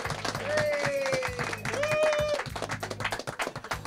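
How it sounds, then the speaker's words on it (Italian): Clapping and applause from a TV studio audience rise under music and a sustained singing voice, the claps continuing on their own toward the end. "ancora un applauso allora"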